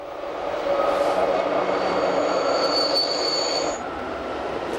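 The Glacier Express train runs along the Albula line in the Swiss Alps, its wheels squealing in a sustained high metallic screech over a steady rolling rumble, fairly close, the squeal cutting off near the end while the train noise continues.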